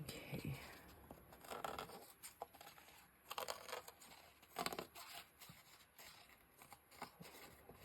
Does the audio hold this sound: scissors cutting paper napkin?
yes